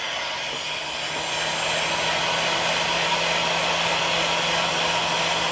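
LOTUS heat gun at 50% heat with fan speed 2, giving a steady, loud, close whooshing roar of hot air that holds level throughout.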